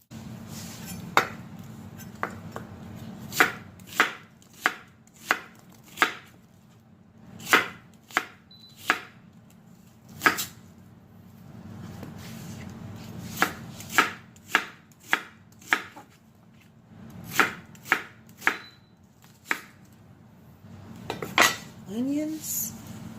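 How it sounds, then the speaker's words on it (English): Peppers and onion being sliced with a knife on a cutting board, sharp rhythmic chops in quick runs with short breaks between, loud and close, no talk. "we're going to slice up some peppers and onion"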